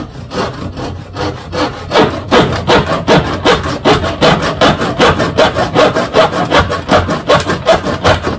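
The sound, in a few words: Denzel wood hand saw with 3D sharpening sawing through a nail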